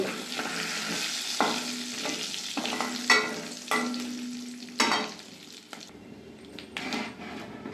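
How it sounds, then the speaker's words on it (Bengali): Dried red chillies, five-spice mix and bay leaves fry in two spoons of mustard oil in a wok, sizzling steadily while a spatula stirs and scrapes in several sharp strokes, with no talk. "ফোড়নটা ভালোভাবে ভেজে নেব"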